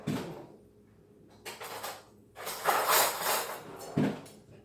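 A spoon clinks and scrapes inside a bowl while pizza sauce is stirred, in a few clattering bursts that grow busier toward the end, with no talking.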